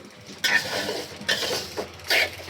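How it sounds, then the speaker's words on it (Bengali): Rice for biryani is fried in a pot, with a stirring utensil scraping and clattering against the metal in a few distinct bursts, close by. "বিরিয়ানির চালটা আমি ঝরঝরা করে একটু ভেজে নিচ্ছি যেন বিরিয়ানিটা ঝরঝরা হয়"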